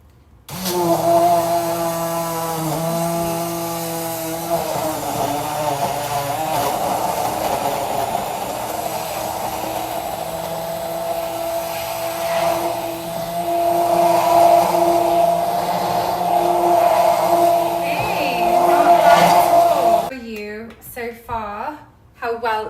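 A pink Paris Hilton immersion blender runs through frozen ingredients, a loud whining motor hum that wavers in pitch as it bogs and frees up for about twenty seconds, then cuts off, followed by brief handling noises.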